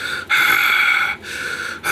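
A voice imitates heavy breathing close in someone's ear, two long breathy exhalations separated by short pauses, with no words spoken.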